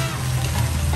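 Chicken liver stirred in a pan while cooking for arroz valenciana, giving a brief, steady sizzle with a low rumbling undertone and no voices.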